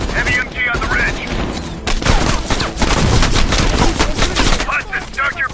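Heavy machine gun fire in the Call of Duty Cold War video game rattles in dense rapid bursts mixed with explosions and battle noise, loud and close, with voices talking over it.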